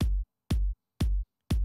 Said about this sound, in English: an empty pattern that has only a kick now on 120 BPM.